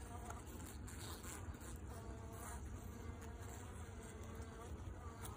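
Honey bees buzz continuously around a double nuc beehive, a dense, steady swarm drone heard close up at an even, fairly quiet level with no talking.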